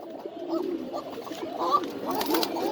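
Pigeons at a farm in Mirpur give soft, throaty, repeated coos close by, over a low murmur of background sound.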